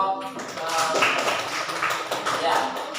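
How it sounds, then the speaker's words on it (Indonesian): A classroom group in a university teaching-practice session claps together, a dense, steady burst of many hands lasting a few seconds, close and fairly loud, with a voice briefly audible at the start. "Tepuk tangan buat kelompok."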